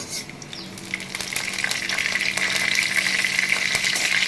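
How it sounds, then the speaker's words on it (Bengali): Black cumin seeds and dried red chillies spit and crackle in hot oil during tempering, a steady close-up sizzle that swells louder over a few seconds with scattered pops, no voices. "আমি একটু কালো জিরে ফোড়ন দিয়ে দিলাম আর একটু শুকনো লঙ্কা এ দুটো ফোড়নে দিয়ে দিলাম ফোড়নটা একটু ভাজা ভাজা হোক"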